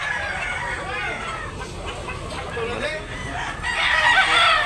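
Rooster crowing at a chicken market in Cebu, a big yellow-legged bull stag among the birds, heard amid steady market crowd noise and clucking, with the crow swelling louder near the end.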